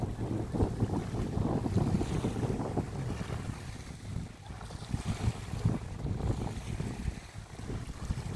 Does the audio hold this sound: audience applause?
no